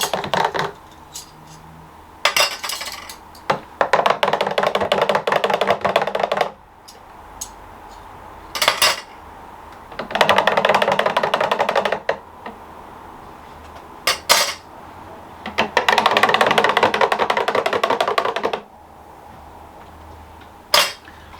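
A spoon stirring fruit sorbet mixture inside plastic Ninja Creami pints, heard as several long bursts of rapid clinking and scraping separated by quiet gaps and a few sharp knocks, close up and without speech.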